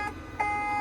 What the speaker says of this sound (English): this is going to do that horrible beeping thing because of the stupid brake